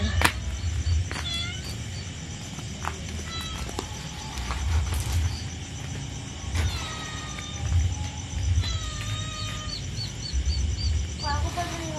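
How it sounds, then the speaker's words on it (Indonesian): High, thin kitten mews repeat several times outdoors, with birds chirping and a steady low background rumble throughout. "Put, anak kucing anyar, Put."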